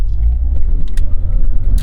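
A 1992 Honda Prelude SH engine roars loudly and steadily, a deep continuous rumble climbing under load toward its 6,500 RPM redline, with no voices.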